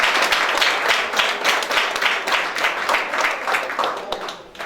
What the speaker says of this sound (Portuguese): Vamos receber o homem de Deus com uma salva de palmas.